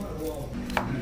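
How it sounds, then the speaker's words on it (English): A knife chops garlic finely on a board for steamed bun filling, with quick close taps and a sharper knock near the end. "Chop them nice and tiny. I'm showing you how to chop them."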